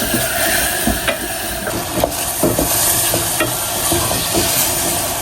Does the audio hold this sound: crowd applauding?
no